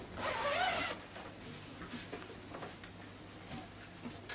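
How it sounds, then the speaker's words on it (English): A zipper rasps briefly near the start as it is sewn onto the back panel of a cold-shoulder jumpsuit, then quieter fabric handling and faint ticks follow, with no talk. "Finish attaching the zip to the back panel."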